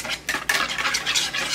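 Protein pancake batter made with fine whey protein powder being stirred in a bowl: a steady, close run of soft scraping and wet swishing strokes with small clinks of a utensil against the bowl, no voices.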